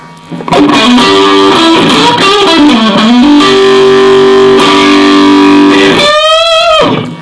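Electric guitar played through a vintage tube-style overdrive and fuzz distortion, loud sustained crunchy notes and bends ringing alone, ending in a feedback-like squeal.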